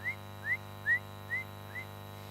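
A human voice imitates spinner dolphin whistles with five short rising whistles, evenly spaced and fairly soft, over a steady background hum.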